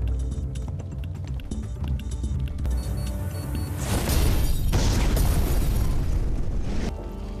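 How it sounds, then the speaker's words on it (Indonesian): A missile strike in an action film erupts into a loud, rumbling explosion with a broad crashing roar that swells and sustains before tapering, following a stretch of tense mechanical soundtrack. "Bagdawi berhasil selamat dari serangan rudal Amerika."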